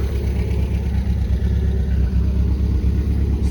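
A 1973 MGB engine idling after sitting unused for 20 years, a steady close low rumble that stays even throughout with no talk over it.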